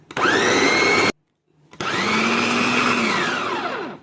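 Blender grinding a kibbeh mixture smooth, a loud whirring motor that runs about a second, stops briefly, then whirs again for over two seconds with a falling pitch as it slows.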